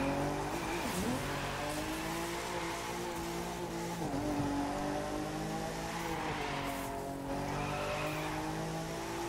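A Nissan 370Z drifting in the racing video game The Crew 2, engine droning at high revs with long tire squeal sliding up and down in pitch, continuous and close throughout.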